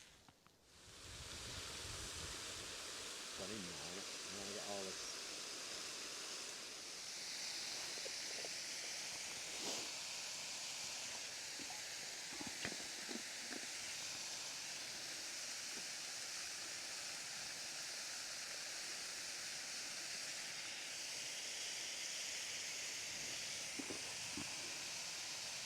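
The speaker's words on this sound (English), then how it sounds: "So that was lunch at Hellgill Force waterfall, and what an unexpected gem that was." Hellgill Force waterfall straddling Cumbria and North Yorkshire, a steady roaring hiss of falling water close by, unbroken throughout with a few faint knocks and a brief voice-like sound at the start.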